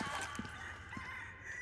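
Chickens cluck in the castle section of Resident Evil 4 Remake, a few short clucks over a quiet game ambience and soft background music.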